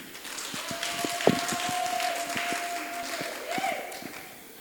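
Scattered applause from a small audience at a launch event for preschool teaching guides, with sparse individual claps and a steady tone running underneath, fairly faint throughout.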